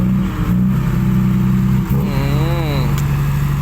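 A nearby Isuzu Deca truck engine idles with a deep steady rumble, then revs up and settles back down midway through, loud and close.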